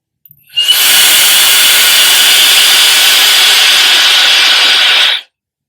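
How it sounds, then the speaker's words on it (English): A Shark Flex Style hairdryer switches on and runs at a loud, steady whir for about four seconds before cutting off abruptly. "It's quite noisy, but it's a hairdryer"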